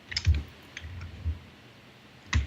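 A few sparse, close clicks of typing on a computer keyboard, separated by short pauses over a quiet room.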